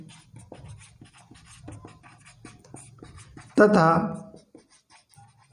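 Quick ticking and scratching strokes of writing on a board during a geometry lesson, repeated in short bursts beneath a teacher's ongoing speech.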